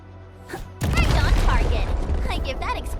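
An explosion in the video game Arknights: Endfield bursts in loud and sudden, then leaves a dense, rumbling roar with crackling debris that holds steady for several seconds.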